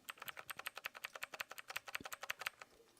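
Rapid, steady typing on a mechanical keyboard fitted with brown switches, with dense clacking keystrokes close up and fairly quiet, a few slightly heavier strikes mixed into the even rhythm.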